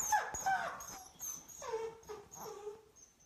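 A young dog, about a year and a half old, whines and whimpers at feeding time in a series of high, wavering cries that rise and fall. The sound is fairly faint, with no talk over it.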